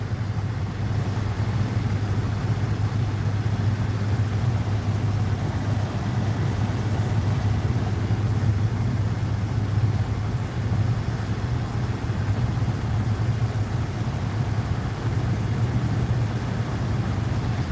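Van engine running steadily, a continuous low idling drone with no breaks, heard alone without talk.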